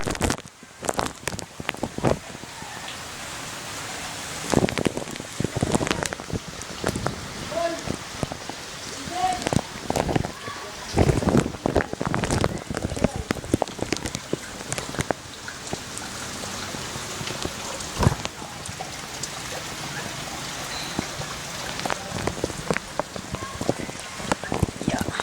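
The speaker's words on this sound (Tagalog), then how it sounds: "At umuulan pa rin." Rain still falling over floodwater during a typhoon, a steady patter of drops on surfaces with sharp close impacts and some wind noise, while a voice speaks intermittently.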